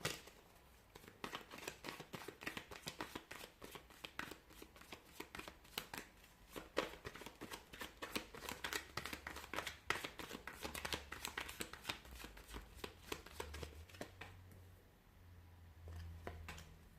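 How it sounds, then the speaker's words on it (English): A deck of tarot cards is shuffled up close for a long stretch, a dense run of quick riffling snaps and slides that thins out near the end, with no talking. "give the cards a shuffle"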